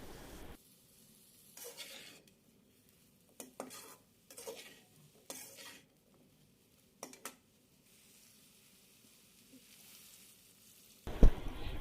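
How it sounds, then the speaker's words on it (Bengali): Chopped ridge gourd and potato being stirred in a pan for a prawn curry, quiet scraping bursts of the spatula separated by near-silent gaps, ending in a louder sizzle and clatter. "এখন দিয়ে দেব কেটে রাখা ধুন্দল, দিয়ে দেব আলু,"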